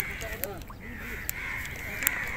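Crows caw harshly among mangroves in Abu Dhabi, several birds calling at moderate distance over steady background noise, with a voice speaking underneath.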